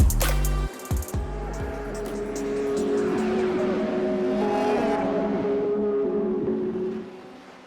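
A Porsche 963 race car in iRacing revs up and holds a loud, sustained engine whine that rises and shifts pitch, with some tire noise, before tailing off at the end.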